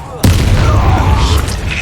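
A Confringo blast spell in Hogwarts Legacy, one sudden loud booming burst that cuts in sharply and rumbles on with crackling, mixed with other game sounds.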